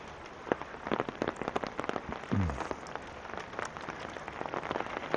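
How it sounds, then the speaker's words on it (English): Steady rain falls on an outdoor walk in Regina, a dense patter of drops on wet ground and puddles with a few sharper splashes, close and continuous throughout. "That's my walk in the rain."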